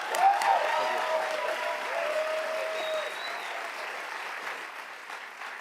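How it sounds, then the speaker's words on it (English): Applause at a school board meeting for Above and Beyond Award recipients, a full round of clapping from the audience that starts strong and slowly tapers off. "Let's have one more round of applause for all of our Above and Beyond Award recipients this evening."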